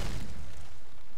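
Grenade blast in the PC shooter Arctic Combat, a single loud low boom right at the start that rumbles and fades over about a second.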